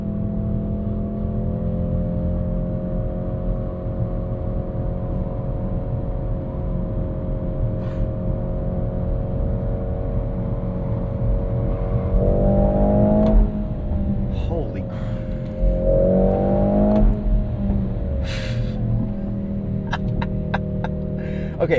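A 2025 Mercedes-AMG GLC 63 S E Performance SUV with a 671 hp powertrain is driven hard through a cloverleaf in race mode, giving a steady cabin engine drone that rises and falls with several revving surges.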